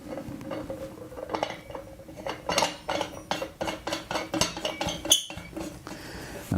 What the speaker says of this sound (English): You take that off, the reservoir is full of paraffin, and you have to screw the burner in.